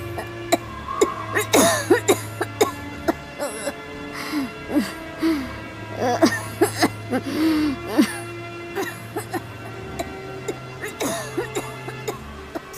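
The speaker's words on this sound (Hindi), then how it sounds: "वह बुरी तरह खांस रही थी, मानो उनकी सांस रुकने वाली हो।" A woman coughing hard in repeated bursts, with gasps and strained breaths between them. The fits come close and loud over roughly thirteen seconds, and a low steady hum sits underneath.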